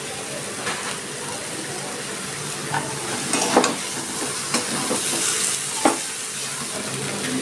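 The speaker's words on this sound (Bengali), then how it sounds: "আমি একটু সর্ষের তেল দিচ্ছি উপর দিয়ে।" Mustard oil poured over water lilies (shapla) and split peas (matar dal) in a pan sizzles steadily up close, a constant bright frying hiss with small pops and stirring scrapes scattered throughout.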